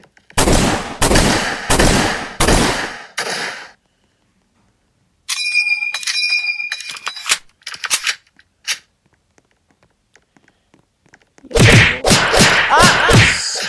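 Bursts of rifle fire from an M1 Garand in a Roblox game: a quick run of sharp shots at the start, scattered clicks and clatter in the middle, and a loud burst again at the end.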